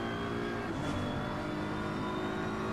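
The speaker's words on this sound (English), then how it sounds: "Beautiful sounds of the BMW." A BMW race car engine at Mount Panorama in a sim racing game, a steady high-pitched drone held at constant revs with no talk over it.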